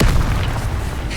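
A fire spell cast in the video game Hogwarts Legacy bursts out as a short, loud, deep whooshing boom that fades over about a second.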